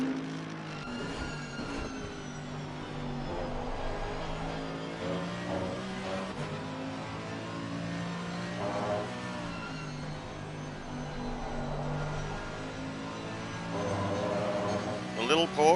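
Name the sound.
Porsche race car engine in a sim racing video game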